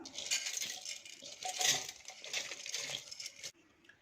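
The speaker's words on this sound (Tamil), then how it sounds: "இப்போ இந்த அரிசியை நம்ம மிக்ஸி ஜாரில் ஆட் பண்ணிக்கலாம்." Soaked native rice is tipped into a mixer jar, a close rattling patter of wet grains falling against the container for a few seconds before it stops abruptly.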